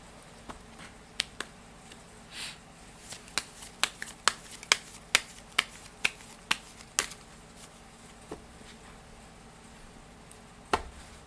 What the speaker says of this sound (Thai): เดี๋ยวจะมาเสี่ยงไพ่ยิปซีดูเพิ่มเติมนะครับ